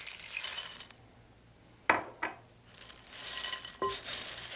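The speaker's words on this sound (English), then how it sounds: "We start by combining some toasted corn cereal with mini pretzels, dried cranberries, and chocolate-coated candies." Toasted corn cereal, mini pretzels, dried cranberries and chocolate-coated candies tumble into a bowl, giving bright scattered rattles and a few sharp clinks against the dish, with quieter gaps between pours and no voices.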